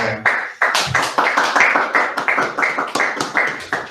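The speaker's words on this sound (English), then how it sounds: "Probably a lot more people are applauding" Applause at a Migracode event on migration and the labour market: a small group clapping steadily, each clap sharp and close, forming a fairly even rhythmic pattern for about four seconds with no talk.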